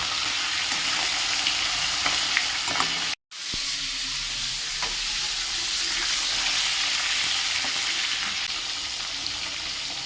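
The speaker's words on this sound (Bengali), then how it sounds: "কড়াতে তেল দিয়ে তেলটা ভালো করে গরম করে নিয়ে নুন হলুদ মাখানো মাছের মাথাগুলো ভালো করে ভেজে নিল" Turmeric and salt-coated fish heads frying in hot oil in a kadai, a loud continuous sizzle broken by a brief silent cut, then the crackling fry resumes steadily with occasional stirring.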